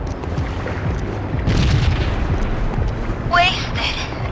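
Grenade explosions in the Perfect Dark Zero nightclub level, with a deep boom rising midway over rumbling game noise and a sharp burst near the end. Someone talks over the action.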